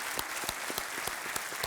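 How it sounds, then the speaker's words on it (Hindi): Studio audience applause for a contestant on the quiz show KBC, a steady dense wash of clapping throughout, fairly faint and even with no talk over it. "तालियों के साथ इनका अभिनंदन।"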